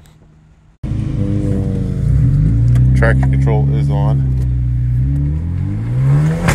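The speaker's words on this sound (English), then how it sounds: "the car now has an Injen short rim intake, which makes the turbo ridiculously loud" Straight-piped, catless turbo Hyundai Genesis Coupe with a short ram intake; the engine fires up abruptly, then drones loudly with revs climbing early on and again near the end, while a voice speaks briefly over it.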